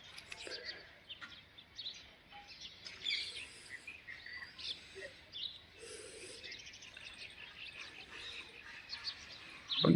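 Small birds chirp and tweet intermittently in a calm, cool early-morning outdoor setting, light and fairly distant calls scattered over a soft background hum.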